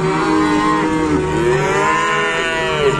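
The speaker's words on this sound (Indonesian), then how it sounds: "Di sebelah sini banyak sekali kedatangan sapi-sapi lucu nih." Several cows moo in long, overlapping, drawn-out calls, loud and continuous against the steady din of a crowded cattle area.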